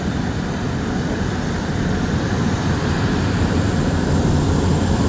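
A Boeing 777 parked at an airport gives off a loud, steady broadband engine roar that holds evenly without pause throughout.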